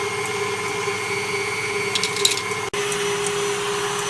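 Electric mixer beating egg whites with cream of tartar for macarons, a steady whirring hum running throughout with a brief clatter and a sharp dip near the end.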